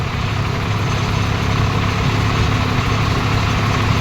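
A tractor engine, an Indo Farm 3048 or Swaraj 855 fitted with cage wheels, runs steadily at idle or low load with a continuous heavy low rumble, close and loud, with no speech.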